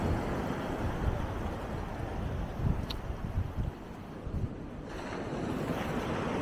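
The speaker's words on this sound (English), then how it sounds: "And the sea, look at the sea." Sea waves and surf rolling onto Walcott beach, a continuous broad wash with wind buffeting the microphone and swelling breaks, with no talking.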